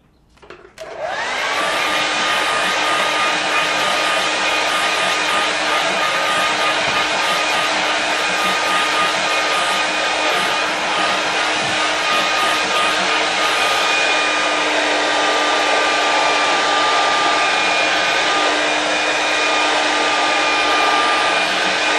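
A hair dryer blows steadily and loudly for about twenty seconds over a watercolour painting, a constant whooshing roar with a faint motor whine that starts abruptly after a brief quiet moment.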